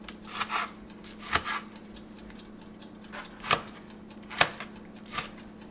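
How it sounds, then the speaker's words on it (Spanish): A knife slices through tomatoes and onion on a board in a home kitchen, giving a handful of soft, spaced cuts and taps against a quiet background. "Aquí mismo vamos a rebanar los tomates y la cebolla"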